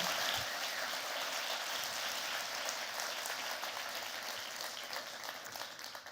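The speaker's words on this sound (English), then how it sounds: "And one last round of applause for Javette." An audience at a TEDx event in Toronto gives a soft, distant round of applause, a faint wash of many hands clapping that slowly tapers off.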